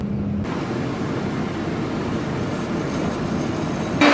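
A tram crossing the Carioca Aqueduct bridge in Rio de Janeiro, between Santa Teresa and the city center, gives a loud, steady, close rail rumble with no pauses.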